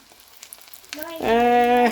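Pieces of jellyfish coated in gram flour batter start frying in a pan. A quiet stretch gives way to a sudden loud sizzle that holds steady to the end.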